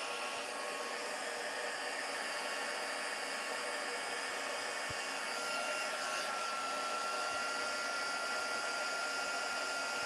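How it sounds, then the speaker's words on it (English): Heat gun blowing from underneath a layered craft mask, a steady faint hissing whoosh of hot air held for several seconds, close and alone. "I'm going to get my heat gun, which is just here"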